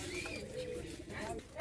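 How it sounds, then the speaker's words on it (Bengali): Kalshira pigeons cooing at a pigeon shop in Khulna's Bara Bazar: a short, soft, low coo against faint background noise. "কালশিরা কবুতর।"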